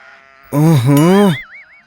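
A single loud sheep bleat, wavering and drawn out for under a second, stands out clearly in a Telugu mountain ghost story, followed by a faint warbling tone.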